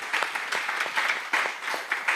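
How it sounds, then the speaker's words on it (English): Audience clapping at a fisherman's art workshop and civic engagement masterclass, a steady close round of applause with rhythmic swells throughout, no talking over it. "Kindly, a round of applause once more."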